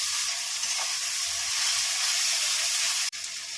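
Diced tomato goes into a pan of frying ginger, onion, garlic and green chilli paste for chicken pulao, raising a steady, close, loud sizzle that hisses continuously before a brief dip at the very end.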